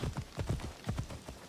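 Horse hoofbeats clip-clopping in Assassin's Creed Odyssey, a quick run of hoof strikes drawing close in rapid uneven rhythm, fairly near and alone without talk.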